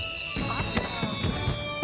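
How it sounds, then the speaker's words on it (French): A rapid series of fireworks bursts crackles and pops in quick succession over a steady high-pitched background tone. "le bruit des explosions peut les effrayer"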